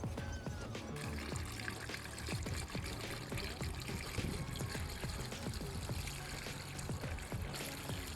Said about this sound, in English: let's put some water in it